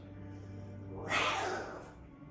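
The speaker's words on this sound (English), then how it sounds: "A large cat." Large cat giving a short breathy snarl or hiss, a single loud rushing burst over a low background hum, heard during a tabletop role-playing game scene.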